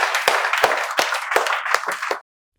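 A few hands clapping in welcome, about eight sharp claps in an uneven rhythm that quickens toward the end, close and clear, then stopping abruptly.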